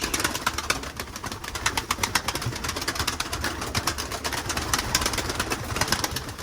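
A crowd of pigeons in a loft fills the space with busy tapping and scratching, low coos and brief flaps of wings, steady and near, with no voices present.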